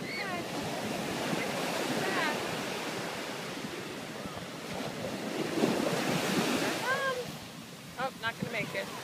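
Ocean waves wash and break at a beach in a continuous rushing surf with wind buffeting the microphone, and a voice is heard faintly near the end.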